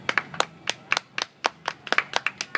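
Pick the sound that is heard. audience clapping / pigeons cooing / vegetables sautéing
audience clapping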